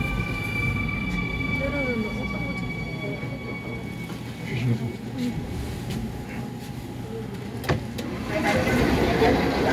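A Seoul subway Line 8 train at Sinchangwon station rumbles steadily, with metallic wheel squeals and clanks, then a louder surge near the end; faint background voices sit under the rail noise.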